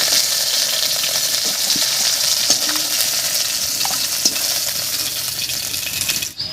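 Pieces fry in hot oil in a pan for a shol fish curry, giving a loud, steady sizzle with occasional stirring scrapes and no talk.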